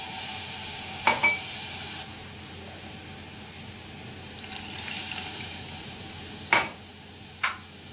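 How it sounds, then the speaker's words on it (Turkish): Cold water poured over flour roasted in a pan sets off a hissing sizzle, broken by a few sharp clinks of a spoon against the pot, with the steam hiss rising and falling in short bursts. "Unum kavruldu. Üzerine bir buçuk su bardağı soğuk su ilave ediyorum."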